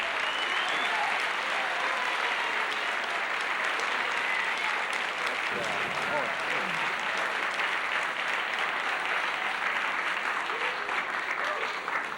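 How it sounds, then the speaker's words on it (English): Studio audience at a television talk show applauding, a loud, sustained wash of clapping from a large crowd that holds steady throughout, with a few voices faintly mixed in. "Your applause makes me warm all over."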